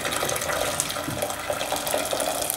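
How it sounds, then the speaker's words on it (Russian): Boiling filtered water is poured over a beef udder, a steady, soft splashing gush with no talking. "И теперь я заливаю кипятком."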